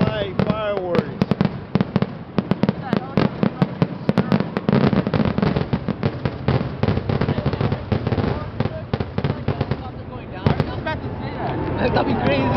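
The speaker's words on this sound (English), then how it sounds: "There's the fireworks fair of July in the city of Norwalk," Fourth of July fireworks in Norwalk, California crackle and pop in dense rapid bursts, a near-continuous barrage of sharp bangs with people talking and cheering underneath.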